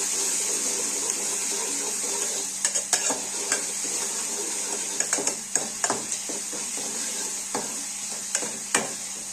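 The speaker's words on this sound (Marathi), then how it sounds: "तरी कांदा टोमॅटो आपल्याला रंगावर भाजत आले बघा." Onion and tomato frying in a pan, a constant bright hiss of sizzling oil with occasional utensil taps and stirring clicks, close and steady, with no voices.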